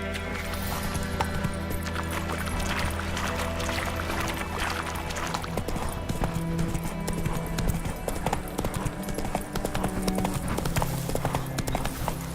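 Roach, the horse in The Witcher 3 video game, gallops with steady rhythmic clip-clop hoofbeats, loud and continuous for the whole stretch, over a low game soundscape.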